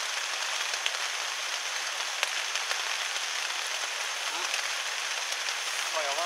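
Heavy downpour at a riverside headwater solo camp, a dense, unbroken hiss of raindrops pelting surfaces nearby, loud and steady with no letup.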